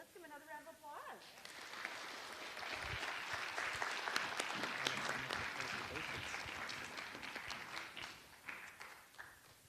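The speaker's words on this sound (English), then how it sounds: "let's give them another round of applause" A church congregation applauds spelling bee participants. After a brief voice at the start, the applause swells into a long, dense round of many hands, holds steady, then gradually thins out toward the end.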